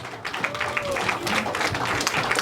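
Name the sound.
audience applause for the children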